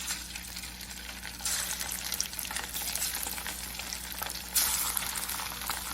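Salmon pieces frying in hot oil for a Coimbatore-style fish fry, a steady dense sizzle and crackle running throughout, close and fairly loud, briefly intensifying as more fish goes in.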